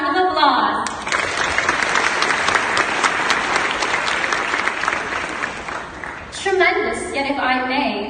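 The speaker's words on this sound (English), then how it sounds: "give yourselves a warm and enthusiastic round of applause" Graduates clapping at a ceremony, a loud, sustained burst of applause filling the middle of the moment, with a speaking voice before and after it.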